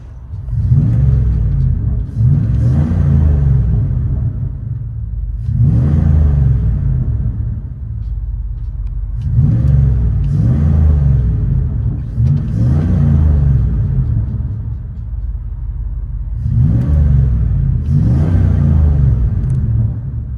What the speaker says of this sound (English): FLOWMASTER Super 10 duals, 5-inch stainless rolled tips.